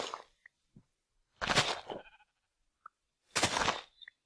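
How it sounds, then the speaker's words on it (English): Sheep in a video game bleating after being punched, two loud drawn-out bleats about two seconds apart, with short clicky game sounds scattered around them and no talking. "Oh, I just inadvertently punched the sheep."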